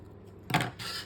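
A single quick scissor snip cuts a paper chain strip, a short crisp cut followed by a soft papery rustle, close and quiet.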